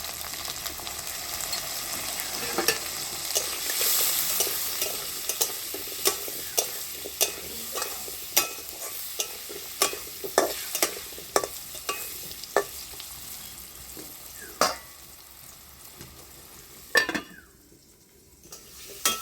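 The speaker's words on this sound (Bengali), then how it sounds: "একটু আলগা করে নেড়ে দেবো। এর মধ্যে দেবো একটু হলুদ।" Fried potatoes and flat beans are stirred in a pan, with a soft sizzle underneath and a regular series of sharp utensil knocks and scrapes against the pan, fading near the end.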